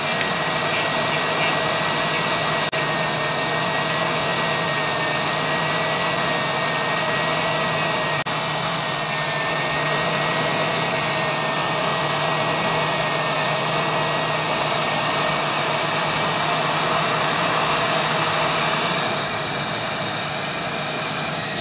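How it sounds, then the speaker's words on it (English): A hot air rework station blows at maximum airflow at 340 degrees during chip-level repair on an HP EliteBook 840 motherboard. It makes a loud, steady, broadband rushing hiss that goes on without a break, with a constant hum beneath it and no speech. "I've set my blower at 340 degrees and the air is at maximum."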